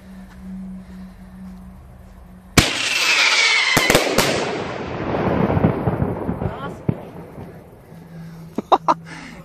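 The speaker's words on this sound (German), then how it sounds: "Bitte nicht kein Vogelschreck explodieren." A bird scarer firecracker goes off outdoors with a sudden loud bang and a sustained crackling roar of explosions that fades over several seconds, followed by a few sharp late pops, with a low steady hum before the blast.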